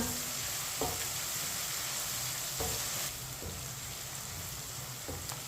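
Garlic and onion frying over medium heat for tinda sabzi, with steady broadband sizzle throughout and a few soft clicks of a spoon stirring the pan at intervals; no talking.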